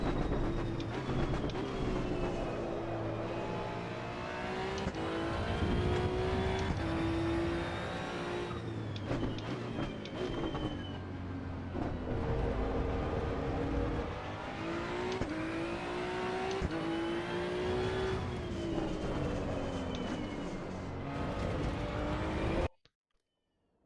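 Maserati race car engine in Assetto Corsa EVO, a loud, sustained high-revving whine that climbs and drops through gear shifts for about twenty seconds before cutting out abruptly, with no talk.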